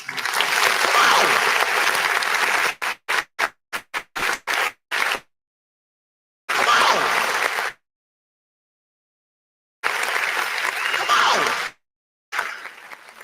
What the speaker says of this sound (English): And once again, give yourself a round of applause.